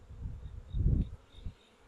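Honey bees fly around an open hive during a winter beekeeping check, a low buzzing drone that swells briefly as one passes close to the microphone, then fades back, with no talking.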